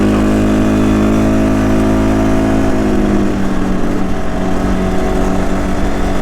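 An ATV drives along a road on a Swedish trail ride, its engine a loud, steady, close hum with a rough low rumble and a slight pitch change partway through.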